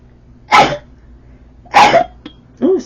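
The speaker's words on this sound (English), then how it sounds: "I've never sneezed on camera like that." Three loud, close sneezes in quick succession, each a sharp explosive burst with short pauses between, with no talking.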